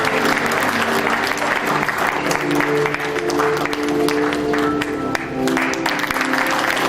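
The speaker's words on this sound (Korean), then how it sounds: "차원 박수 부탁드리겠습니다." Applause from alumni and guests at an award ceremony marking the 40th anniversary of Wonkwang University's architecture department, steady clapping filling the hall with music playing underneath.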